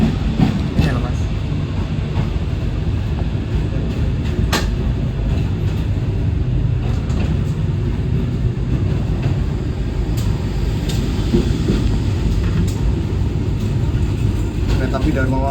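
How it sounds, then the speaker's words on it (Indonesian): The Dharma Wangsa passenger train hauled by a CC locomotive produces a loud, continuous rumble and rolling rail noise, with occasional sharp clacks and people talking. "Kereta api Dharma Wangsa dengan lokomotif CC."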